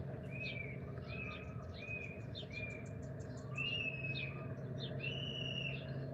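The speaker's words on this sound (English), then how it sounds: "we got birds, we got the birds and the bees." Small birds chirp repeatedly outdoors in quick, bright bursts, faint and at a distance, over a steady low hum of background noise.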